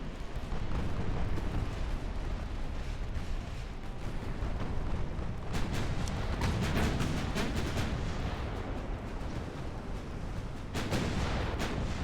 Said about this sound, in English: Torpedo managed to hit.